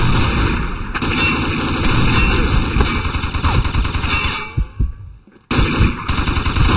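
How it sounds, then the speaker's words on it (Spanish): Dense rapid gunfire from the Combat Arms shooter game, with sustained automatic bursts and overlapping shots, a brief lull with scattered pops, then the firing resumes loudly. "ya estoy escondido y todavía me llegan los tiros donde mí"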